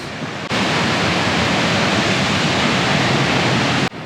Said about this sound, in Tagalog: Bumudok Waterfalls. Napakaganda, pre.